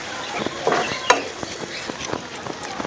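A spatula scrapes and taps as spices are stirred in a frying pan: Kashmiri chili, coriander, cumin and red chili powder with yogurt for egg biryani. Irregular clicks sit over a low sizzle.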